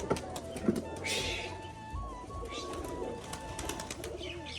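A Rajshahi pigeon takes off, its wings clapping in quick sharp bursts amid flapping, while other pigeons coo nearby.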